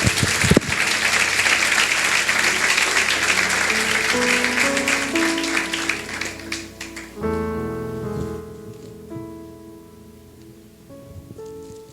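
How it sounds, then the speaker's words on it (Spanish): A church congregation bursts into loud, dense applause during a sermon. The clapping fades as sustained organ or keyboard chords swell underneath and take over. "¿Cuántos pueden darle un fuerte aplauso por la voluntad de Dios?"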